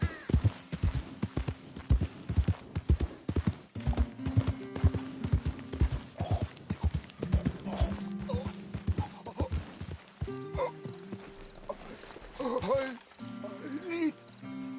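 Horse hooves clip-clop at a steady walking rhythm in Red Dead Redemption 2, close and prominent, with a brief whinny and voices talking over the later part.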